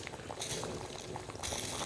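Belo-belo soup bubbling in a pot over a strong fire, a steady close rolling boil with continuous gurgling and hissing, no talk over it.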